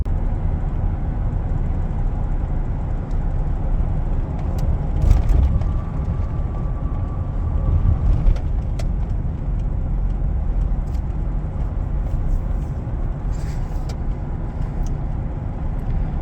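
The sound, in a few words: GMC Sierra pickup truck driving home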